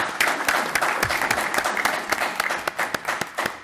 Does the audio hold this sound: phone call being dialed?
no